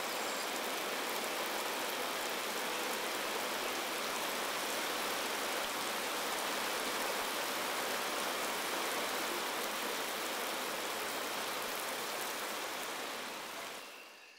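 Steady rain falls in the Congo, a dense even hiss of drops that holds constant and fairly close before fading away at the very end.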